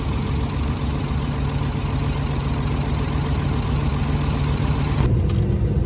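A tractor engine runs steadily at a loud, close rumble while hay is loaded on a farm, droning without a break with a brief metallic clank near the end.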